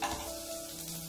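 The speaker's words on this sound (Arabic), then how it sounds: "ونخلي الزبدة سيح معانا بهذا الشكل" Butter melting in a pan for cooking shrimp, a steady, close sizzle with soft crackle running evenly throughout, no voices.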